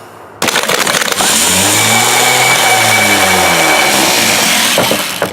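Starter motor spinning the engine of a 1967 Ford Galaxie 500 with a car starter problem, a loud close whirring crank that kicks in abruptly, winds up and holds a rising-falling whine for about five seconds, then tapers off.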